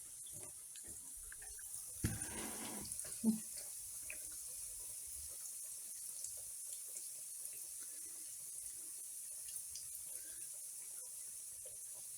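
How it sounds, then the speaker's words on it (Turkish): Steady hiss of tap water running into a kitchen sink while an item is washed underneath, with a brief louder splash and clatter early on, then a constant, even flow. "Şöyle yıkamalım bunu da."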